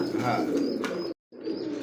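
Magpie pouter pigeons in a farm loft coo softly beneath a voice, the murmuring sounds cut by one brief silence before resuming.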